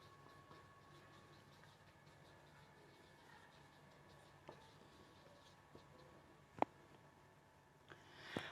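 Faint, steady scratching of a pen writing out a direct-speech example for an English narration lesson, with a few soft taps and bumps along the way and no talk.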